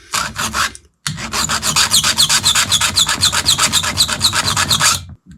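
A file scrapes a chainsaw tooth in fast, rhythmic strokes, about twenty rasping passes after a short opening burst and a brief pause, close and dry with no voices.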